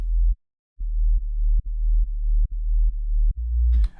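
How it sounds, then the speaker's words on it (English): A deep synth sine-wave sub bass pulsing in repeated notes, clean and loud, with small clicks at each note change and a brief gap near the start. "It's just a sine wave"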